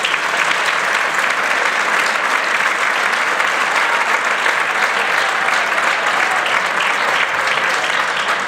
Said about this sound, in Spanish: Un fuertísimo aplauso para ellos.